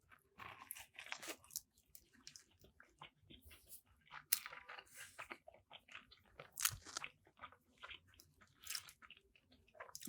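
Close, steady chewing with crisp crunches and wet bites, in irregular bursts over about ten seconds, with no talking.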